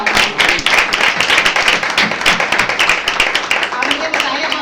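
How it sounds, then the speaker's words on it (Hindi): Church congregation clapping hands during a lively worship gathering, a dense, continuous patter of many hands close by, with voices mixed in beneath the clapping. "जब ये तालियां बजा रहे हैं"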